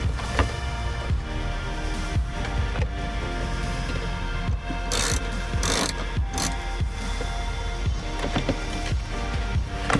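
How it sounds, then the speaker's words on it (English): Steady, close ratchet clicking from a 10mm socket backing out bolts on a B6 Audi A4 fuel filter cover, a fast even pawl rattle running throughout with brief louder scrapes midway. "you're gonna use 10mm socket"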